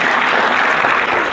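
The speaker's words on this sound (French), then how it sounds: "je crois qu'on doit applaudir l'ESCG pour ça." Conference audience breaks into applause, a loud, even roar of many hands clapping together without pause.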